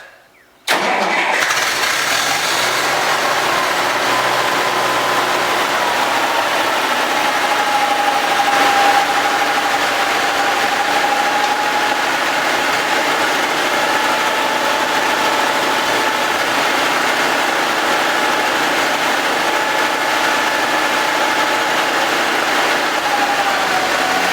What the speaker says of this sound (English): So this tractor's already running better than it has in the entire like 36